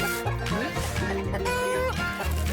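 Cartoon hens cluck on a poultry farm in the Honey Bunny kids' cartoon, short animated clucks and squawks layered over bright musical tones and effects.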